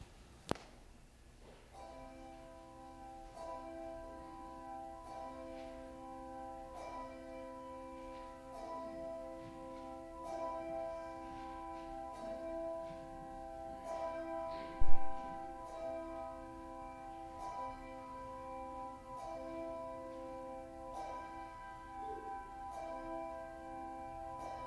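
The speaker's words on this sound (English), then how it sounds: "we will sing that after the pealing of the bells" Church bells pealing ahead of a Maundy Thursday evening hymn, steady sustained ringing tones layered over one another and continuing throughout, with a single sharp knock partway through.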